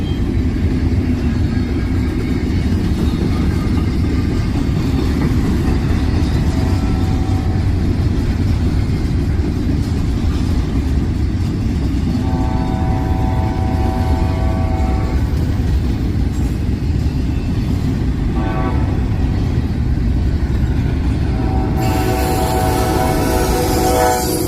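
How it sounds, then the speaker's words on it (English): The Amtrak Capitol Limited passenger train rolls past at close range with a heavy continuous rumble and clatter of cars, a horn sounding in tonal blasts midway and again near the end. "The Last Amtrak Capitol Limited. It's going to come through and be blocked."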